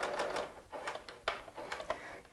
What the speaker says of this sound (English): So then simply stitch right on the edge.